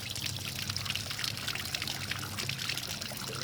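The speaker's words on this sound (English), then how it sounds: "You can see the coolant started to flow." Engine coolant flowing out of a bike's engine block during a coolant flush, a steady, close pouring and trickling stream that holds even from start to end with no talk.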